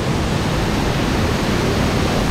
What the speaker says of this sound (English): Guys, we made it to the main waterfall.